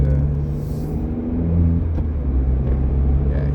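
A hybrid car drives along with a steady low rumble and road noise inside the cabin, the engine note holding even with a slight swell midway and no voices.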